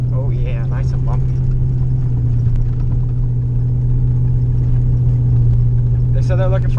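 A truck rumbles along a bumpy dirt road, its engine a steady loud low drone heard from inside the cab, with a person talking briefly at the start and end.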